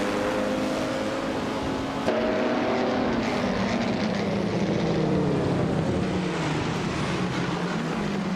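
Race cars, including a vintage 1958 Porsche 718 RSK, roar together at the start of a race at Mugello, a dense, loud engine drone with rising and shifting tones as several cars pull away, steady throughout without voices.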